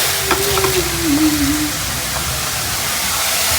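Whole white cumin seeds tempering in a generous amount of hot oil, giving a steady soft sizzle and crackle that holds evenly throughout, with a faint tonal hum near the start.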